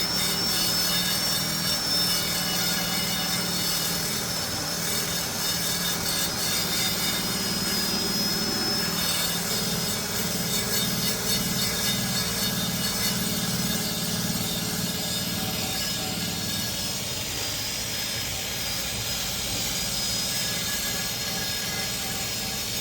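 A wire wheel grinds steadily against a blackened cast iron skillet, a loud, continuous whirring hiss with a rough abrasive edge that holds for the whole stretch without pauses.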